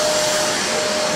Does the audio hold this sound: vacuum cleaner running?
yes